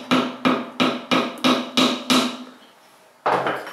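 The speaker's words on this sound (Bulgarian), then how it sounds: "Може да използваме, може би, чука, който е домакинския," A household hammer taps a watermelon to mark where a hole will go for a watermelon hookah. Six evenly spaced hollow knocks ring out close by, then a pause and one more.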